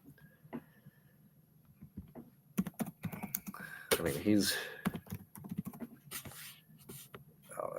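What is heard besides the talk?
typing on a computer keyboard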